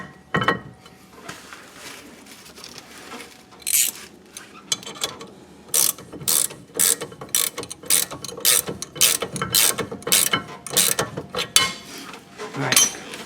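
Rapid ratchet clicking in repeated bursts, close and loud, as the top brake caliper bolt is started and tightened on the rear brakes of a 2012 Nissan Altima 2.5L, with short pauses between bursts.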